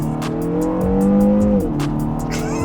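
A 2022 Kia Cerato GT hot hatch revs hard while accelerating, its engine note climbing then dropping as it shifts, loud and close, with no talking.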